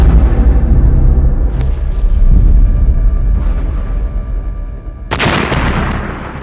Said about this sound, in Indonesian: tembakan ketiga HRMS Everston tepat mengenai Anjungan RI Macan Tutul yang mengakibatkan ledakan hebat.